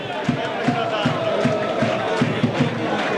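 A crowd of football fans packs the stands at a Raffadali vs Akragas match, chanting in a loud, rhythmic roar with repeated beats. An Italian commentator talks over the crowd.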